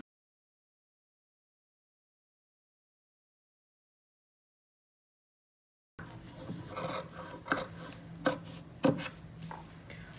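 Scissors snip through fabric around the neckline of a boat-neck kurti, cutting a margin on the inner side. The cuts come as a few short, close rasping snips after a silent opening, each crisp and near with light rubbing of cloth between them.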